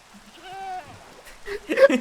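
A goat bleats once in a video game, a short wavering cry, followed by louder bursts of excited voices and laughter close by.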